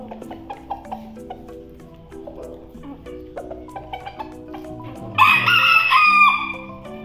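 Polish hens cluck softly and repeatedly close by while eating grain, and a rooster crows loudly partway through.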